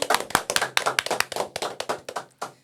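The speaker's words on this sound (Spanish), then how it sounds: "Un aplauso, por favor, para recibirlo." A few people in a small studio booth clap to welcome a guest, giving sparse, uneven individual claps close to the microphone that taper off near the end.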